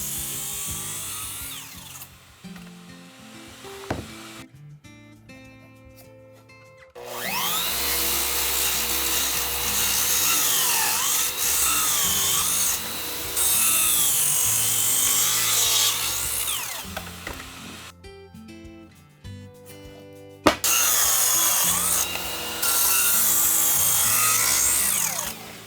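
A power saw cuts wooden stair treads to size for a new-build staircase, with loud sustained whining cuts separated by brief pauses and near-silence, then starting up again, close and harsh.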